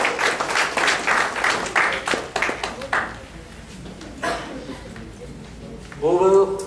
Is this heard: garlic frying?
no